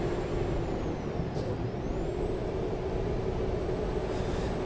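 Truck air brakes in the driving game American Truck Simulator: a steady engine drone with short hissing releases of air, one near the middle and another at the end.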